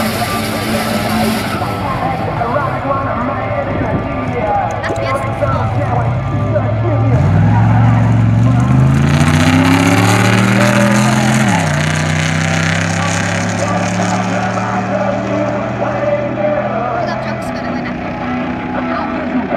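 A coupe and a pickup truck drag race side by side at a Ford Transit forum event at North Weald, their engines roaring up through rising pitch sweeps and a gear change before fading, with commentary talking over them.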